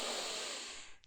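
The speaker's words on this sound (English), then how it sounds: "Take a cleansing breath in." A single deep cleansing breath drawn in during a guided tapping session for anxiety, heard as a close, airy inhale lasting about a second that fades out at the end.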